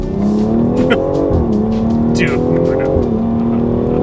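BMW X3M with S58 engine, Bootmod3 stage 1 tune, accelerating and shifting at about 3,000 rpm; a loud steady engine drone rises in pitch with brief dips at the gear changes, while people talk over it inside the car.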